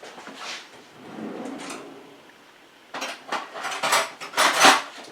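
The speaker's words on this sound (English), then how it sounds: "now I am going to scoop my batter with a spoon" Pumpkin spice muffin batter scooped with a spoon into greased muffin tins: soft scraping at first, then a run of louder metallic clinks and taps close by, with no voices.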